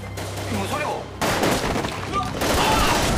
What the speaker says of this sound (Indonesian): Suara tembakan ini